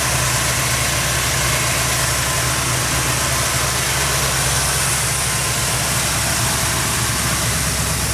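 The 460 V8 engine of a 1979 Ford 4x4 pickup truck idles steadily and loudly up close, a constant low rumble with no talking.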